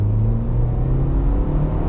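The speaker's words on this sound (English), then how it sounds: "If you rev this up, you can hear the turbo." A 2015 MINI Countryman S ALL4 turbocharged engine revs from inside the cabin, a steady loud low rumble with a faint whir riding on top, no voices.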